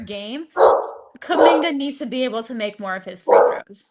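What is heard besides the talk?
dog barking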